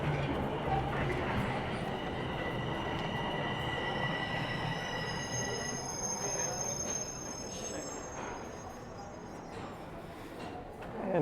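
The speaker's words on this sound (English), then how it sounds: "And here's the southbound train rolling in." Southbound subway train pulling into Dundas Station in downtown Toronto, with a loud, continuous rolling rumble and high-pitched wheel squeals that fade gradually as it slows.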